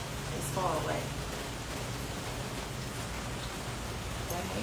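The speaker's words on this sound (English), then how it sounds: "As you can see, it's raining" Rain falls outdoors in a steady, close hiss of drops at an open-air session, with a faint brief rustle near the start.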